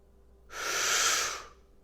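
A single deep inhale during a breathing exercise, a broad airy rush swelling in over about a second and tapering off, close to the mic with no talk.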